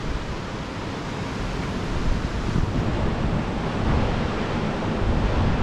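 Atlantic Ocean surf rolls onto the shore below an oceanfront resort balcony in Myrtle Beach, a steady broadband wash with gentle swells and some wind buffeting the microphone, with no voices.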